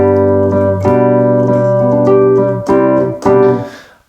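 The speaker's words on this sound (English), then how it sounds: "We have a Wurlitzer." Wurlitzer electric piano voice on a Nord Electro, with a few sustained chords played close and loud and changing every second or so, with no speech.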